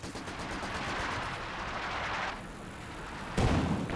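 An artillery barrage in Company of Heroes 2 strikes an old sandbag position as a dense, rumbling wash of distant blasts and gunfire, with a heavier impact near the end.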